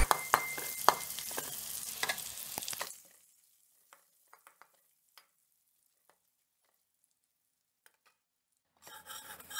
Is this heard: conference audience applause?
no